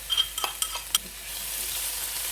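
Garlic-ginger paste sizzles and fries in a hot pan, with a few quick stirring scrapes and clinks at the start before a steady crackling hiss.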